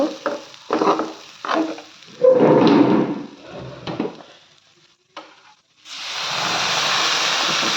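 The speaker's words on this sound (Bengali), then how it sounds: "এখন আমি এটার সাথে পানি অ্যাড করব" Hot water is poured into browned rice frying in a pan for ilish polao. After a few clattering stirs, it sets off a loud, steady hiss of sizzling that fills the last couple of seconds.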